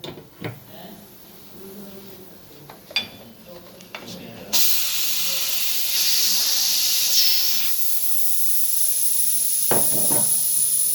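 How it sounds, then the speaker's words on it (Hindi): A pressure cooker releases steam in a loud, continuous hiss that starts abruptly partway through, after a few clinks and bumps. "प्रेशर कुकर का प्रेशर रिलीज़ करते हैं"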